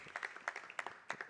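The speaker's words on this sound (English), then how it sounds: "then another round of applause" Sparse, fairly faint clapping from an audience at an AI for Robotics workshop, a few scattered claps spread over a second or so with no talking.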